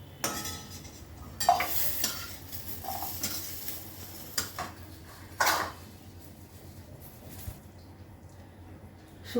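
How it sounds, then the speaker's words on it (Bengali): Dried red chillies hitting hot oil for a tempering on a Bengali stovetop, a soft sizzle broken by several sharp scrapes and clinks of a utensil against the pan, close and with no talk. "শুকনো লঙ্কা ফোড়ন করছি।"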